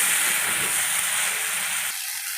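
Soybean curry with turmeric being stirred in a frying pan, giving a steady, close sizzling hiss that drops away abruptly near the end.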